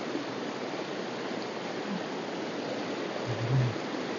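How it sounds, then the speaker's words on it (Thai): A small, clear stream flows down from a waterfall at a forest temple, giving a steady, full rushing wash with no voices. "ก็เป็น ลำธารขนาดเล็กนะครับ โอ้ น้ำใสมากครับ"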